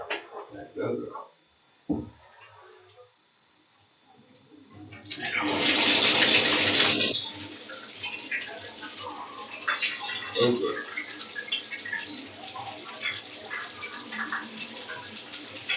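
Water sprays in a steady hiss for a few seconds, then cuts off, with a short spoken word and some handling noises around it.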